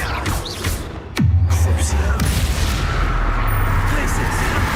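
Confringo fire spell cast in the Hogwarts Legacy video game: a sharp loud blast lands partway through and rolls into a sustained low rumble, with a voice shouting over the game sounds.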